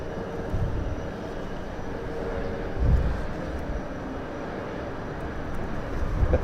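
An easyJet airliner at Southend Airport gives off a distant, fairly faint jet rumble that swells slightly a couple of times and carries on steadily throughout.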